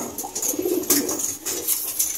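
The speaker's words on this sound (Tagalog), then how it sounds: "Pero may yung ibon natin dito." A racing pigeon coos softly nearby in short repeated low calls, with faint rustling around it.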